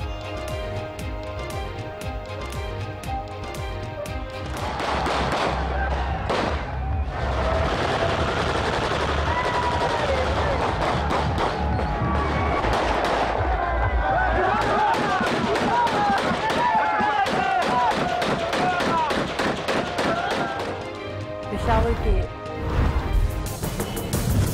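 Celebratory gunfire by election supporters after a by-election win in Peshawar, with sustained loud rapid bursts of automatic and single shots rattling continuously over crowd noise.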